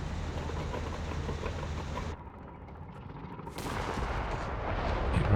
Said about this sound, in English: AT gun on ToxicGrenadier getting a couple shots in